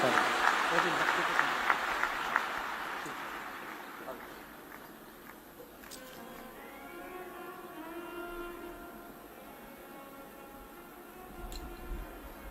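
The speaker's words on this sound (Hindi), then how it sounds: "एक बार जोरदार ताली बजाते हैं।" Audience applause at a Hindu religious discourse, a Shiv Mahapuran katha, rises loudly in the opening seconds as a dense crackle of clapping, then thins out and gives way to quieter crowd murmur and faint tonal sound.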